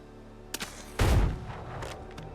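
Musket firing in the video game Windrose, one loud booming gunshot with a short echoing tail, preceded by a fainter click.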